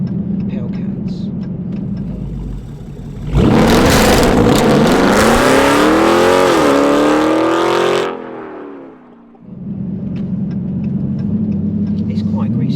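Dodge Challenger 392 R/T Scat Pack V8 accelerating hard from inside the car, a loud rising roar with a rasping exhaust note for several seconds, then easing off back to a steady cruising hum, with people talking before and after.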